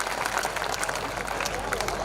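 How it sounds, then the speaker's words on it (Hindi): A comedy poetry audience at a hasya kavi sammelan claps in dense, loud applause that holds steady throughout, with a faint murmur of voices underneath. "एक बार जोर से तालियां बजाओ"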